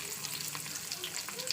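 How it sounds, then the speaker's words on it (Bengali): Chili and onion fry in a pan for a mashed side dish, a continuous close crackling sizzle with small popping bursts and a light stir, no voices over it. "লঙ্কা পেঁয়াজটা ভেজে নিচ্ছি, ভর্তা করা হবে"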